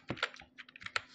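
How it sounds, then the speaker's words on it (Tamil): Quick, irregular keystrokes on a computer keyboard, heard up close and alone, as a search term is typed into a browser. "ஹோஸ்டிங்கர் இந்த ஸ்பெல்லிங் அப்படியே அடிச்ச நீங்கள் நார்மல் ஹோஸ்டிங்கர் அடித்தாலே"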